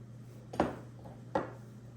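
Tuna salad with chopped eggs stirred in a bowl: two separate soft scraping knocks of a utensil against the bowl, close and quiet, with no voices.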